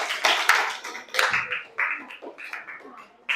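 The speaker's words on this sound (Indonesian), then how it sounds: "Tepuk tangan buat kita semua ya." Students in a seventh-grade classroom clap their hands together in short, irregular bursts, close and fairly loud, with slight pauses between the groups of claps.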